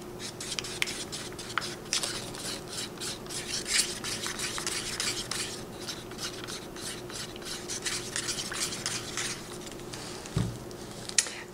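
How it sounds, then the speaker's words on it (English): Payne's gray and iridescent white acrylic paint being mixed for a small canvas, a steady close scraping and rubbing with soft rhythmic strokes, fairly quiet and continuous, with no talking. "I like to mix it pretty well."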